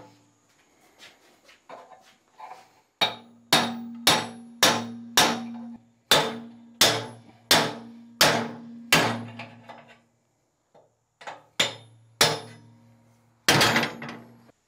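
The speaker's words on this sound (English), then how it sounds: "so much for the hammer and the chisel" Hammer blows on a chisel against a steel back weld on a clamp-on trailer hitch for a Kubota B2601 compact tractor; a series of sharp, loud metallic strikes in uneven bursts with ringing decay, nearby and without talk.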